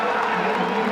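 A Memphis college football crowd cheers during a game against Houston as the team keeps its drive moving, a broad, steady roar of many voices throughout the whole moment.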